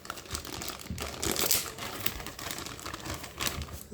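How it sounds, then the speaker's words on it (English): A sticker is peeled off a Corsair RM750e power supply, giving close, crinkling, tearing crackles in irregular bursts with no talk. "Let's remove the sticker."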